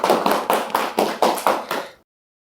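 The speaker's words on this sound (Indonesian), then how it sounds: "Oke Pak, tepuk tangan dulu dong untuk Pak Lukman" Applause at a school talk-show event comes as several distinct, rhythmic clap bursts, steady and fairly close, before stopping abruptly into silence.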